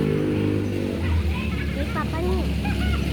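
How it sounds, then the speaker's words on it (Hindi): A heavy motorbike rumbles along steadily and loudly in the foreground, its engine drone constant throughout while voices talk over it. "ये हैवी बाइक हस्बैंड चला रहे हैं।"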